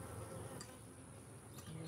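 Honey bees buzz steadily around an open hive during a honey harvest, a close, continuous drone with individual insects swelling nearer and fading, no voices over it.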